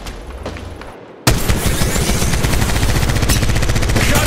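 Automatic gunfire in Apex Legends Mobile bursts in abruptly after a second of quiet, a loud, sustained rattle of rapid shots with booming impacts continuing to the end.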